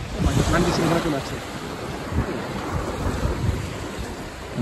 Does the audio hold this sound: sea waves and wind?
yes